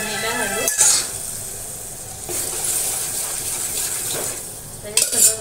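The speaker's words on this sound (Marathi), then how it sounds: "आपण उकडून घेतलंय कडधान्य, ते याच्यात फोडणीला घालू" Boiled pulses tipped into a hot tempering of oil and coriander sizzle and hiss in a pan, with a couple of sharp clatters of the utensil near the start and end, close and fairly loud.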